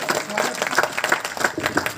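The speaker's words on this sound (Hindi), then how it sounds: "मैं चाहूंगा उस बिटिया के लिए जोरदार तालियां बजा दें" Audience applause at a Rajasthani poetry gathering for a young girl singer, steady dense clapping from a crowd throughout.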